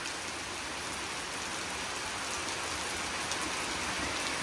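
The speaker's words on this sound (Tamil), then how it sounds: "ஆனா இந்த மழை பார்த்தீங்கன்னா காலையில இருந்து ஒரு பொட்டு நிக்கவே இல்லை" Heavy rain in Kanyakumari, a dense, constant roar of falling water that has kept up since morning, loud and unbroken with no voices.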